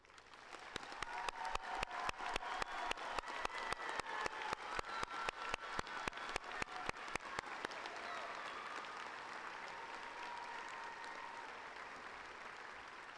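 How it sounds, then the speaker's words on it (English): Audience applause at a spring 2017 Lamar University College of Engineering commencement, honoring military veterans standing in the crowd; a few sharp individual claps open into steady, dense clapping from a large hall that holds evenly, then eases slightly toward the end. "let us applaud them to thank them for their service"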